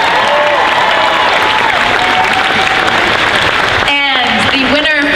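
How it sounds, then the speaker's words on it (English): A large crowd at a convention costume contest applauds and cheers loudly and close. A voice cuts in over the clapping near the end. "Give them a big round of applause."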